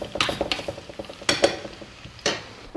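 Thinly sliced garlic fries in a pan with a steady soft sizzle, broken by a few louder scraping stirs and utensil clinks close by.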